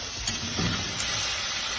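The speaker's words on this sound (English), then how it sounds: "Sesame seed oil. Let's give that a stir." Sesame seed oil is stirred in a hot pan, giving a steady loud sizzle and hiss throughout, with faint scraping from the stirring underneath.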